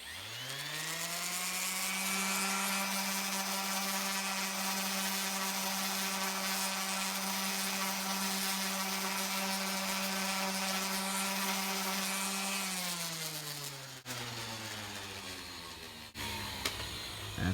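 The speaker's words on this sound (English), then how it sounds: "I'm going to turn the Orbital on, and I'm just going to press it into the surface here" An orbital palm sander runs steadily against a Bondo-patched wooden post, a loud continuous motor whine with buzzing overtones that winds down near the end, followed by faint handling noises.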